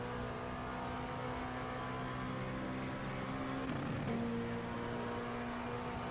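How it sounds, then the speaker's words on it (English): An LMP2 race car engine in a racing video game drones at a constant high pitch against its rev limiter, loud and steady, wavering briefly near the middle. "who doesn't love the rev limiter in an LMP2?"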